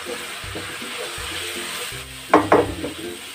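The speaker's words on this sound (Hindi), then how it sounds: "हम देख सकते हैं हमारे मसाले अच्छी तरह से फ्राई हो गए हैं" Spices sizzling in a pan with a spoonful of gram flour for a bhandare-style potato curry, a steady low fry broken by a few sharp scraping stirs of a spoon near the end.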